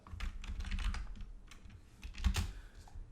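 Typing on a computer keyboard while writing PHP code, a close run of quick irregular keystrokes with a short pause, then a louder cluster of clicks, with no talking.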